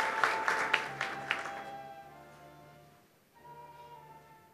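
Audience clapping at a Japanese agricultural newspaper advertising award ceremony, a few sharp claps at first that thin out and fade into a quiet room with a low hum.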